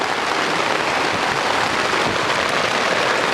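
Heavy rain driven sideways by storm winds at a campsite, a dense, unbroken roar of drops hammering nearby surfaces, loud and close with no voices.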